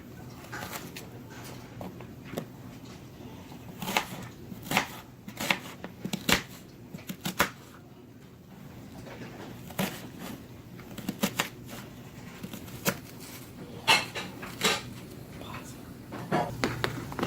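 A knife dices onion on a cutting board in irregular bursts of quick, crisp taps, with short pauses between the runs, close and moderately loud over a faint room background.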